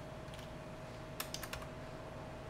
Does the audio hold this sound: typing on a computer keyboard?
yes